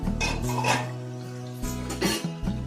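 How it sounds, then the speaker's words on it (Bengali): A lid lifted off a kadai of mutton being cooked, giving a few close metallic clinks and scrapes against the rim. "10 মিনিট হয়ে গেছে, ঢাকনাটা খুলবো"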